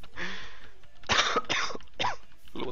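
Several loud, close coughs in quick bursts, a longer throaty cough first followed by three or four sharp barks with short pauses between, no talking.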